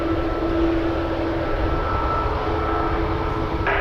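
An Air Canada Boeing 787 Dreamliner jet at Toronto Pearson airport gives off a steady, loud engine roar with a faint whine over it, continuous and close throughout.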